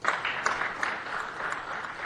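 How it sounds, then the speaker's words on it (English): Audience at a city council meeting claps steadily for a couple of seconds, a soft, even patter of many hands heard from across the chamber. "another round of applause"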